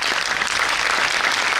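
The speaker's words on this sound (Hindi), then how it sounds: "बस तालियों से हौसला अफजाई करते रहिएगा।" Applause at an Independence Day Urdu poetry mushaira, a brief, dense burst of clapping from a large audience, steady and fairly loud throughout.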